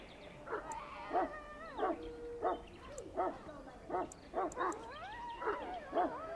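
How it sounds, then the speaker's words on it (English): A Mabari warhound barks repeatedly in Dragon Age: Origins, about ten sharp, evenly spaced barks with a whiny, yelping tone, close and clear over a quiet background. "You're quite lucky to have your own Mabari warhound, you know."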